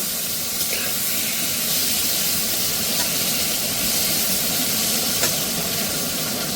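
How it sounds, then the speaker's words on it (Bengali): Thinly sliced eggplant frying in hot oil over high heat, a steady broad hiss and crackle that runs continuously with no talking. "বেগুনগুলো একদম লাল লাল করেই ভেজে নেব"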